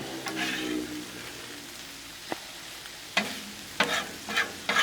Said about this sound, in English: Come in here and stir your shrimp up again.